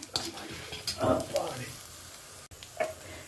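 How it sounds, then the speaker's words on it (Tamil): Spices dry-roasting in a pan for rice bath powder give off a soft, steady crackling sizzle with occasional stirring scrapes, close by, with faint talk in the background. "நம்ம இதை நல்லா செவக்க வறுத்துன்ட்டு"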